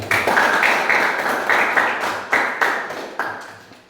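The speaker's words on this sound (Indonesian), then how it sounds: "Kita berikan aplaus." Applause in a classroom after a group presentation, a burst of clapping with sharp individual hand claps standing out and then thinning and tapering off over a few seconds.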